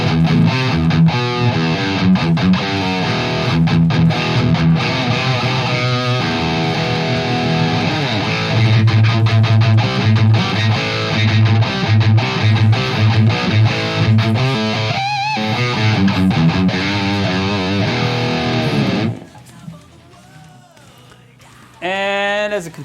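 A distorted electric guitar plays chunky, gritty riffs and chords through the crunch channel of a Peavey JSX amp, miked with an SM57, for a long stretch, then rings out and fades near the end.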